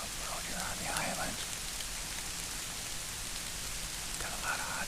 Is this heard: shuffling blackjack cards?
no